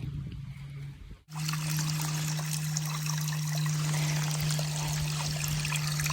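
Rainwater trickles steadily along the Appalachian Trail after a rainy day, a close, continuous watery babble that starts abruptly after a brief quieter moment and holds a constant level to the end.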